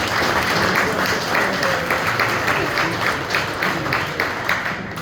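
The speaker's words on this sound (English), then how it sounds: "So let's give him another round of applause." Another round of applause at a rugby club's winter party Q&A, a dense, continuous wash of crowd clapping, fairly loud and steady for several seconds.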